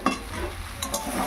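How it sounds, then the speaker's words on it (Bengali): Spice paste and salt being stir-fried in a pan, a soft continuous sizzle with light scraping and stirring strokes, close and steady throughout, no voices. "এই যে নুনটা দিয়ে দেবে, দিয়ে এবার একটু ভালো করে"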